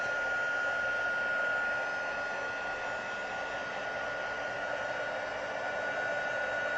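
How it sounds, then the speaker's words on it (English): A handheld craft heat tool used for drying card-making materials runs with a steady, close, airy whir and a faint constant whine, unbroken for the whole stretch. "I have my heat tool. I'm going to turn it on."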